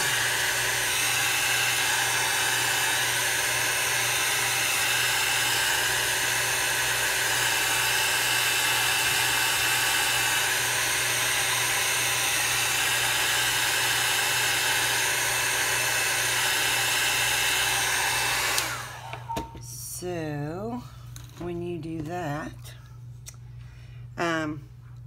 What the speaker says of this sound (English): I was not being careful with my dryer.